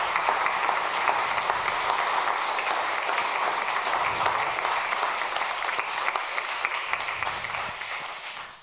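Dense, sustained applause from a large crowd at an award ceremony, loud and steady throughout, easing slightly at the very end.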